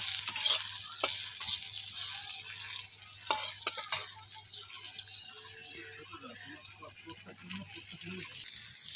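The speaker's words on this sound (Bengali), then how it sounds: "আমি একটু সামান্য নুন দিয়ে দিচ্ছি উচ্ছেতে, দিয়ে এটা ভালো করে ভেজে নেব" Bitter gourd sprinkled with salt fries in oil in a pan, a soft hissing sizzle with scattered light clicks and scrapes of stirring, fairly quiet and close, with faint background sounds.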